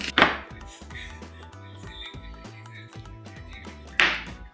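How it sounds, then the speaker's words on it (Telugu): Onions, tomatoes and green chillies being chopped on a board, with a sharp louder knife strike near the start and another near the end, with softer cutting and tapping between them and no talk. "next we have to cut onions,"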